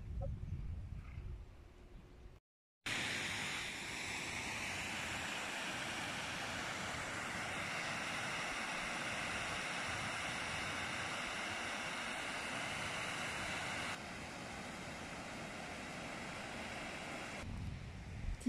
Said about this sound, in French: Là, il y a une cascade.